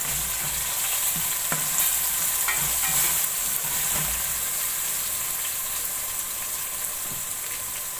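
Garlic paste frying with browned onions for aloo gosht gives a steady, dense sizzle and crackle throughout, with occasional faint stirring clinks, heard close and without talking.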